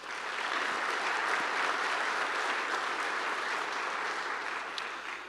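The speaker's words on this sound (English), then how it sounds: "So a big round of applause for Heroku." Conference audience applauding at the opening of a JavaScript developer event, dense sustained clapping filling the room at an even level from start to finish.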